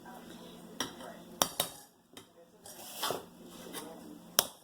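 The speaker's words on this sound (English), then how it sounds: "I'm going to serve myself up some jasmine rice that cooked up." Boil-in-a-bag jasmine rice is spooned onto a plate, with a series of sharp clinks and scrapes of utensils against dishware, irregular and close, while a person talks.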